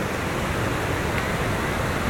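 Rushing water at the Yaremcha waterfall on a Carpathian river, a loud constant roar of broadband noise filling the whole moment, close and unbroken, with no talking.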